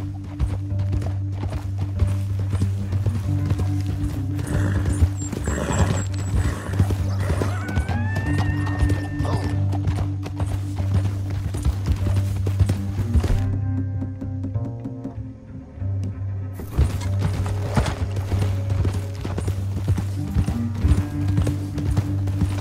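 Horses clip-clop steadily and a horse neighs partway through in Red Dead Redemption 2, with hooves continuous and close under a droning musical score and brief distant talk.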